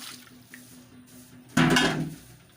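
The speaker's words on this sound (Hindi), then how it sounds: "पानी डालकर इसमें" Water poured into a pot of beef trotters for paya, a short burst of splashing lasting about half a second after a quiet kitchen lead-in with faint clinks.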